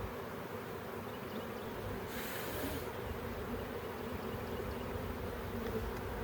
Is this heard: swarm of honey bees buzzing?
yes